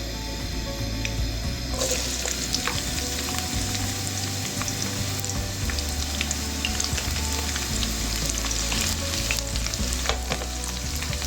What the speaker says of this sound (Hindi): घी हमारा गर्म हो चुका है। अब इसमें प्याज शामिल करेंगे।